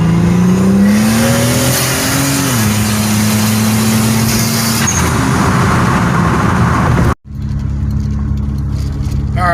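A 1999 Buick Regal GS fitted with a T70 turbo accelerates hard, engine note climbing loud and close before a gear change, then a brief cut and the engine settling back at lower revs.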